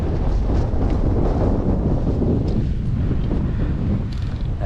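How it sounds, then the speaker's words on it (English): Strong wind blows steadily on an open mountain trail in the Roan Highlands along the Appalachian Trail, a loud, continuous roar buffeting the microphone close up with no talk. "That wind."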